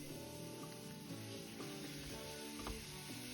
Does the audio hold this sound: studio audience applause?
no